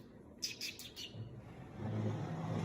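A pet bird gives a quick run of four bright chirps early on, close and fairly clear, followed by a low engine-like hum rising in the background.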